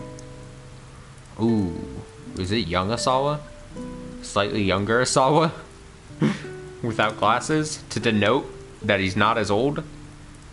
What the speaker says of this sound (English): Oh, that's the sound of rain.